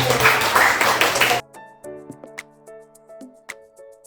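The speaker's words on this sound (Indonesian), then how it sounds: "Tepuk tangan untuk anak-anak." Children in a classroom applaud in a short, loud burst of clapping that stops abruptly after about a second and a half. Sparse plucked tones and light ticks follow.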